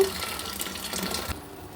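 Hot water gushes into a pot of basmati rice for an Arabic-style fish rice, a steady close pouring wash that cuts off abruptly near the end.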